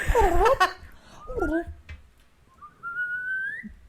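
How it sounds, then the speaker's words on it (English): Breathy whistling with wavering pitch, a short laughing voice early on, then a thin sustained whistle rising slowly near the end. "go on, whistle inwards"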